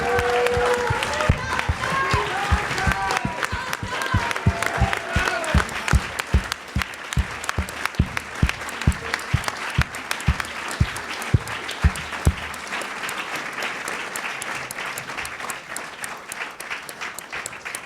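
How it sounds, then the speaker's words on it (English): An audience applauds after speeches at an evening event on Palestine, BLM and arts boycotts. The clapping is sustained and fairly loud for about twelve seconds, with some cheering voices early on, then thins out to scattered claps. "Thank you for that applause"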